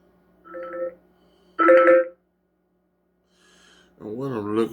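A short electronic ringtone plays in two bright melodic bursts from a 15.5-inch Fisher Bluetooth speaker, followed by a pause and then a voice speaking.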